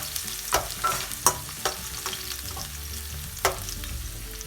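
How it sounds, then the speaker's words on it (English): Garlic and green chili stirred quickly in a hot pan, a soft steady sizzle broken by faint scraping clicks of the spatula, fairly quiet and with no voices. "I'm going to mix this garlic and 1 green chili"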